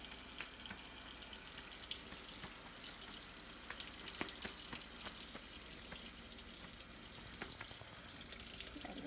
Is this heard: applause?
no